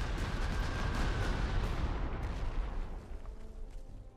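Artillery bombardment in the wartime strategy game Panzer Corps 2, set around Paris: a dense, rumbling barrage of booming blasts that rolls on and gradually fades, with no talking.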